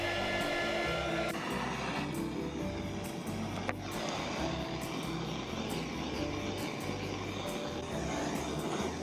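An electric heat gun blows a steady, loud whooshing roar while it heats and shrinks plastic straps, running continuously with no pauses.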